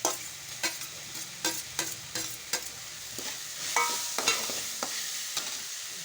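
Sorghum grit upma stirred in a frying pan, with a spoon scraping in regular strokes over a soft, continuous sizzle, close and moderately quiet with no voices.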